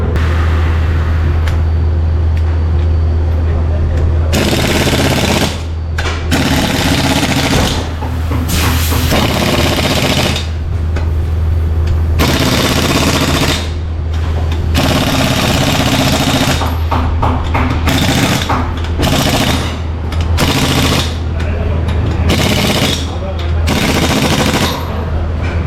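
Rapid pneumatic impact wrench bursts at a tire shop while a tire is fitted onto a Mahindra Thar CRDe, loud and close, repeating in several rattling runs over a constant low hum with brief gaps between.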